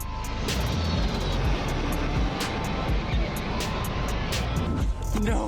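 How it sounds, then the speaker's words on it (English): The Stratolaunch 351 Roc, a huge twin-fuselage carrier aircraft with six high-bypass turbofan engines, produces a continuous, loud, broadband jet roar with no pauses, heard alone. "The Stratolaunch 351, also known as Rock, is an American carrier aircraft powered by 6 high-bypass turbofan engines"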